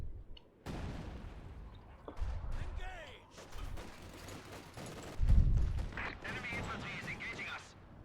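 ZiS-3 artillery barrage in Company of Heroes 2 during a 1v1 match, several heavy thuds and blasts spread across the scene with crackling debris and battle noise in between, moderately loud.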